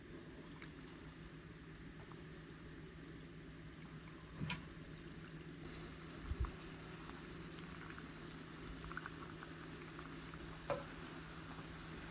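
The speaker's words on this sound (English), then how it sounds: "I'm frying on medium heat." A quiet, steady sizzle of puff puff dough frying in oil on medium heat, with an occasional soft pop or clink.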